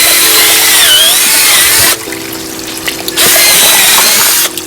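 A power drill with a mixing paddle churning about a hundred pounds of wild clay and water into slurry, loud whining motor running, pausing for about a second, then running again before stopping.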